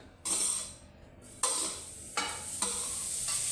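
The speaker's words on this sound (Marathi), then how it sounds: "चला तर आपण आता हे गाजर किसलेली गाजर कढईमध्ये टाकून घेऊया" Grated carrots hit hot ghee in a kadhai for carrot halwa, starting a loud, steady sizzle broken by several scraping stirs, close and continuous, with no voices.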